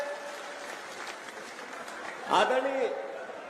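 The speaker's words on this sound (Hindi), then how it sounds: "सब हरीश चौधरी जी का तालियों की गड़गड़ाहट से स्वागत करें।" Crowd applause at an outdoor political rally in India, welcoming a guest leader onto the stage, with a steady wash of clapping and a brief louder swell near the end over a PA-style background.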